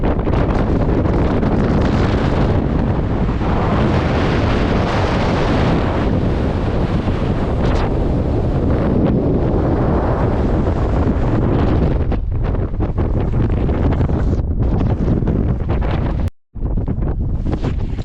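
Strong wind on a Skiddaw hilltop in the Lake District buffets the microphone in continuous loud gusts, roaring and roughly unbroken, with a sudden brief dropout near the end.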